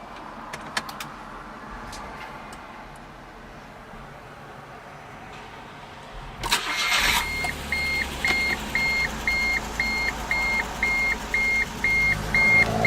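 A 2009 Smart Fortwo Passion Coupe starts up with a sudden burst of engine noise, then settles into a steady idle while a warning chime beeps in a regular repeating pattern.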